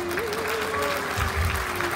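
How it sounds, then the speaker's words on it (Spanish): Audience applause at a community reunion of people from Teloloapan held in Mexico City, steady broadband clapping throughout with a faint tonal line and some low rumble underneath, no clear speech. "Por favor, brindémosle un aplauso."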